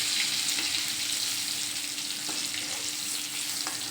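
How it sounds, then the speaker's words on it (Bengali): Eggplant deep-frying in hot oil in a Bengali home kitchen, one side already browned. A steady, close, broadband sizzle and crackle runs throughout with no talk. "আর বেগুনটা এখনও ভাজা কমপ্লিট হয়নি, একটা দিক ভাজা হয়ে গেছে"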